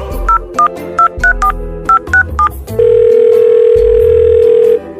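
A telephone is dialed with a rapid string of short, loud touch-tone beeps, followed by a long, steady ringing or line tone.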